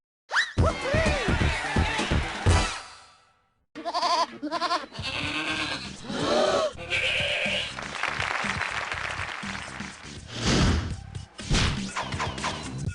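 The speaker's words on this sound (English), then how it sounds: "a singing goat would be a real tragedy of a gift" Singing goat sound effect from the game You Don't Know Jack, a warbling bleat-like melody with crashes and thumps, loud and continuous after a brief pause, no speech.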